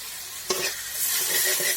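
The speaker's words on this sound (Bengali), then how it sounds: "একটু জল দিয়ে ভালো করে মশলাটা ভাজি করে নেব।" Ground turmeric, chili, cumin, coriander and meat masala frying in oil with salt and a splash of water for a chicken and flat-bean curry, with a steady close sizzle and two sharp spatula scrapes as the spices are stirred.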